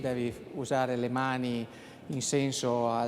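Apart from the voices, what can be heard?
No everyday noise stands out behind the speech.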